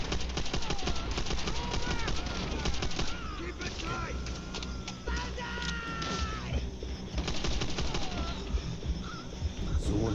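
Steady machine-gun and rifle fire rattles through a Call of Duty World at War battle, continuous and fairly loud, with chirping tones and someone talking over it.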